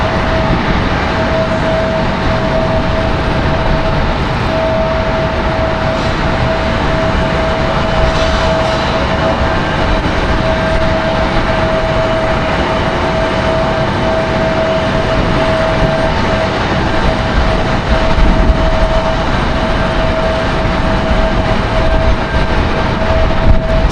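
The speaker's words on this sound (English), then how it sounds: "So the 767 in a hurry to get down to their ramp." Boeing 767 jet airliner taxiing quickly toward its ramp at Raleigh-Durham International Airport, a steady loud engine roar with a constant whine running throughout, close and continuous.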